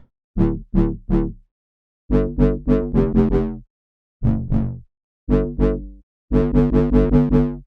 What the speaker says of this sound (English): They give us a much more deep sounding growl